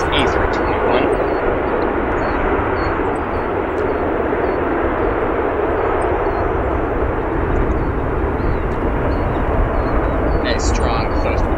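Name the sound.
American Airlines Airbus A321 landing with strong thrust reversal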